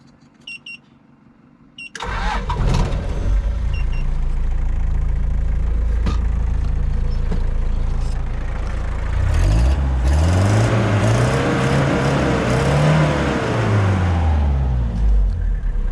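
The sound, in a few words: old four-wheel drive engine starting and revving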